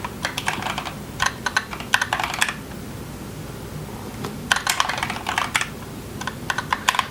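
Rapid bursts of computer keyboard typing while entering git commands, close and fairly quiet, in clustered runs separated by short pauses, no talking.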